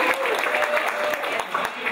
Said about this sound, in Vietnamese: Xin quý vị chào đón Amy một tràng pháo tay